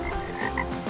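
Frog croaking in a boggy setting, a few short throaty calls repeating close by over a steady wet background, with no talking.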